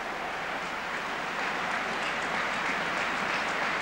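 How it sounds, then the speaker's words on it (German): Stadium crowd applauding AC Milan's Franco Baresi as he is carried off injured in a 1994/95 Champions League match against Casino Salzburg, a distant, steady wash of clapping that swells slightly, with no voice over it. "Und der Applaus gebührt ihm."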